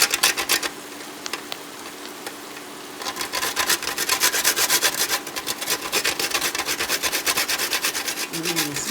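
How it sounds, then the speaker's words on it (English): A whole nutmeg scrapes against a grater over a pan of butter, coming in quick rhythmic rasping strokes, near and fairly loud, with brief pauses between bursts. "Now I'm gonna grate some nutmeg over the pan."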